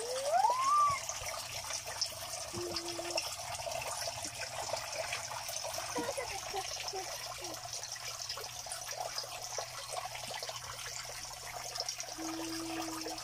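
Steady water flow pours and trickles continuously from a submersible pump hose into a backyard fishpond, a constant wash of splashing with a couple of faint tonal chirps in the background.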